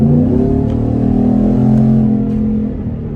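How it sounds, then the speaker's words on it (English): A 2022 Ford F-150 pickup with LTH headers and exhaust roars loud and close under wide-open-throttle acceleration, its deep tone holding steady and then easing slightly near the end. "We'll give it a little wide open throttle here"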